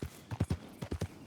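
Horse hooves clip-clop in Red Dead Redemption 2 on a small, common horse, about eight close, distinct thuds in an uneven walking rhythm with no other sound.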